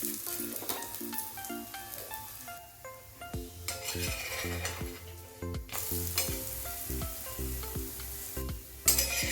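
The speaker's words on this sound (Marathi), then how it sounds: "ते शेवटचं थालीपीठ आहे ते आता भाजून घेऊया चांगलं" Thalipeeth, a fasting-day flatbread, roasting on a pan with a steady sizzle and repeated scraping and turning of the spatula, plus a few metallic clinks near the end, all close and fairly loud with no talking.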